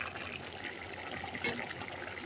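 Potatoes with split green chilies sizzle in a frying pan while being stirred, a steady, close hiss of frying oil with occasional scraping as they are turned.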